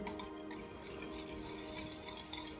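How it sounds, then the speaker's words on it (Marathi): Curd is whisked in a bowl for cucumber raita, a soft, continuous patter of quick scraping and tapping strokes, fairly quiet and close, with no talking. "चला आपण आता ही दही फेटून घेऊयात."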